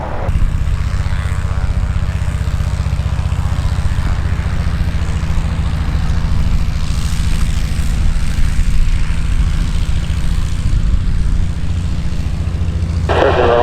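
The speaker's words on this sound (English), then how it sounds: "That's all the World War I planes over there." Propeller engines of World War I airplanes drone steadily and loudly near the runway at EAA AirVenture Oshkosh 2018, a continuous rumbling roar with no talk.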